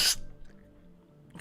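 A single sharp human sneeze bursts out at the start, loud and close, followed by quiet background tones before a faint breath or voice at the end.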